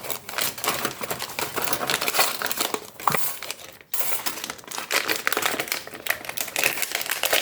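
Continuous crinkling and crumpling of paper, close and fairly loud, with crisp irregular crackles throughout and a brief pause midway.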